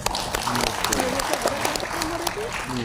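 An audience of teachers claps at a welcome address, moderate scattered applause with a voice talking over it.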